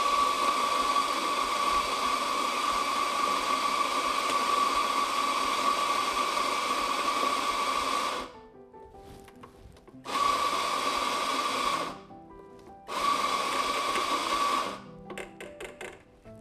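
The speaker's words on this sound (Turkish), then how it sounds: "Önce kahvenin 4 altın kuralından biri olan öğütme ile başlıyoruz." An electric grinder grinds about 20 grams of coffee beans to espresso fineness with a loud, steady whirring drone. It runs for about eight seconds, then comes back in two shorter bursts separated by quiet pauses, ending in a few brief pulses.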